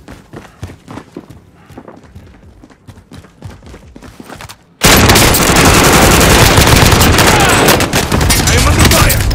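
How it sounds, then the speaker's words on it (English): Gunfire in Call of Duty: Modern Warfare starts as scattered sharp shots and thuds, then suddenly becomes a loud, dense barrage of rapid automatic fire that continues to the end, with voices underneath. "I am under fire!"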